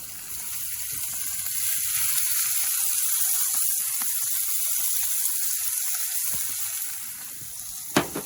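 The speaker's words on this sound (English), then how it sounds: "I'm gonna go ahead and throw some onions in." Onions hit a hot surface on a Big Green Egg grill and sizzle in a steady, loud hiss that holds for several seconds, ending with a couple of sharp clatters near the close.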